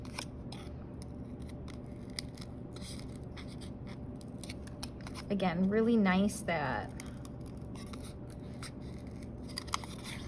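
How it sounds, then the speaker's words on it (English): A brief snipping of scissors through a soft foam sheet for foam printing lasts about a second and a half, with quiet talk around it. "it cuts super smooth with scissors"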